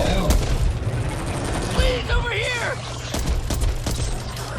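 Rapid gunfire and sharp shots from the zombie shooter video game Back 4 Blood, a steady barrage of close bursts mixed with game effects and occasional voices in the background.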